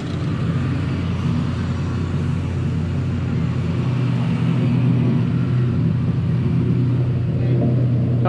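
A Volvo car at a car show gives a steady low engine rumble close by that swells slightly toward the end, with crowd noise around it.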